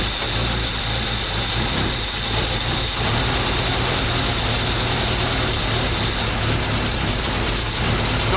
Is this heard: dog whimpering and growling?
no